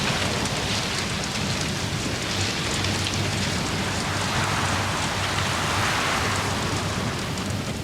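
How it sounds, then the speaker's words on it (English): A heavy rainstorm in the video game Star Citizen pours down as a steady, dense hiss of rain that fills the whole stretch. Faint low rumbles hint at thunder beneath it, and no one speaks. "this storm is crazy strong right now"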